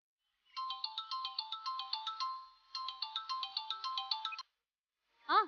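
A phone ringtone plays a bright, repeating electronic melody in two long bursts, clear and close in an otherwise quiet room, followed by a short rising tone at the end.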